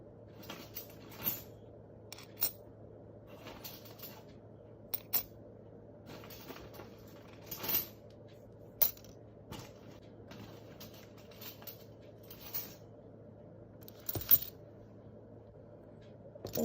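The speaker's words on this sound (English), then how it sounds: "We will use these coins." Fifty-cent coins drop one at a time onto a small model arch bridge, sharp metallic clinks spaced out irregularly over a quiet room hum, some louder than others.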